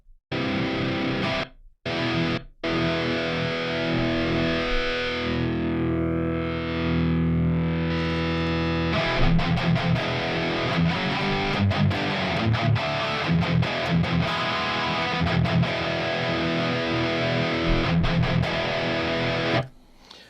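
Heavily distorted electric guitar chords ring out loud and sustained through an amp simulation, with a couple of short gaps early then continuous playing.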